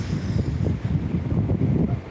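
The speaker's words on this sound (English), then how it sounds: "Ooh, that wind." Cold outdoor wind in Japan blasts straight into the microphone, a loud low rumbling roar with uneven gusty surges that continues for about two seconds with no voices.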